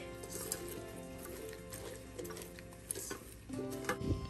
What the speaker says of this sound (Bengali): এবার আমি স্পুনের সাহায্যে ভালোভাবে খিচুড়ি চাল ডাল সবজি মিশিয়ে নিচ্ছি